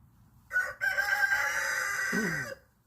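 A rooster crows once, loud and close, a long strained call that breaks downward at the end, with quiet around it.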